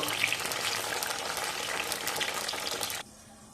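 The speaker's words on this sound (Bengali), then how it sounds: "ওদিকে পটলটা ভাজা হতে থাক" Pieces of pointed gourd (potol) fry in hot oil in a wok, a dense, crackling sizzle holding close and loud before cutting off abruptly near the end.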